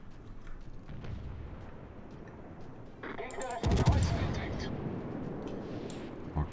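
In the video game World of Warships, a battleship's guns fire a heavy naval salvo, a booming blast with a long rumbling tail after a stretch of low, steady battle noise, with someone talking underneath.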